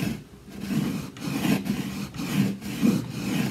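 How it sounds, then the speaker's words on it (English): Kitchen knife wrapped in a wet rag scraping along the chalk-painted edge of a wooden furniture piece, close rhythmic rasping strokes, roughly six passes with short pauses between them. "a wet rag around the kitchen knife. And very carefully go along the edge."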